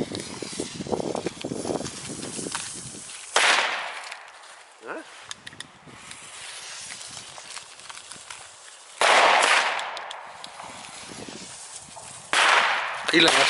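Firecrackers explode outdoors on New Year's Eve, with several sharp, loud bangs spread irregularly across the stretch. Voices talk between the blasts.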